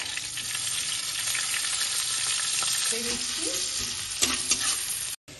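Bay leaf, garam masala and onion fry in hot oil for egg pulao, a loud, dense, steady sizzle with a few light utensil taps toward the end before it cuts off.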